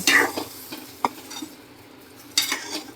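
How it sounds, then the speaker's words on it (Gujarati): Hot tempering of oil with bay leaves and dried red chillies is poured into corn kadhi, giving short bursts of sizzling and a spoon clinking against the pot, fairly faint and separated by quiet gaps. "હવે વઘાણી નાખી અને આપણે આ વઘાર રેડી દઈશું"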